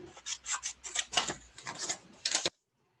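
Scissors snip through paper for a papercraft card project in a quick series of close, crisp cuts that stop abruptly into silence.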